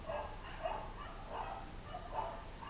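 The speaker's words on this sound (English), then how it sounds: "Ooh, some dogs are going mental outside." Faint dogs barking in the distance, a few muffled rhythmic barks spread across the clip, heard as if from outside.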